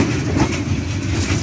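A train runs along the Dhaka–Joydebpur double line, where only one track is open, rumbling loud and close with a steady clickety-clack of wheels over the rails.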